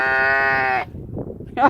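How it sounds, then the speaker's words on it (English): An animal gives one long, loud, sustained bleat like a sheep, then after a short quiet gap a brief second call begins right at the end. "now you're sounding more like a sheep"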